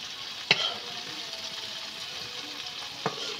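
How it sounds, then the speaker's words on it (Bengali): Okra frying with a little salt in a pan, giving a steady close sizzle throughout, with two sharp utensil clicks near the start and the end. "অল্প লবণ দিয়ে আমি ভালো করে ভেন্ডিটা ভেজে নেব।"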